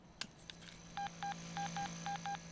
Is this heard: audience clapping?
no